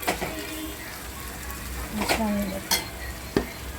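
Sprouted moth beans (matki) cook in a pan, sizzling softly while a spoon stirs and scrapes against the metal in a few distinct clinks, with a voice talking over the cooking.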